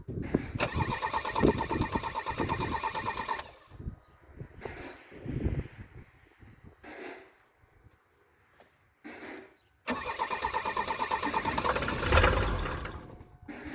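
A 1976 Mercedes 300D diesel cranks and starts: a loud rhythmic starter churn for several seconds, a pause with a brief sputter, then another long cranking burst near the end as the engine tries to catch.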